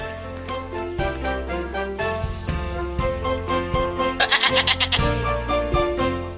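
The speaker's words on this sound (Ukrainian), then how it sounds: "Постривай, ці вівці живуть на фермі." Sheep on a farm bleat in a quick series of wavering, nasal calls, close and loud, overlapping one another with a brief trembling burst near the end; no talking.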